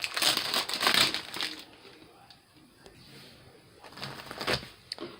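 Plastic packaging around a plastic embossing folder organizer crinkles and crackles as it is unwrapped, with bursts of close handling noise at the start and end and quieter rustling between.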